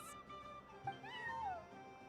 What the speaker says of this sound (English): Hello there, little kitty.